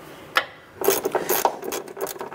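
A ratchet turns to start an upper control arm bolt on a 2008-2012 Honda Accord, giving a single click and then a quick run of close, rapid ratcheting clicks.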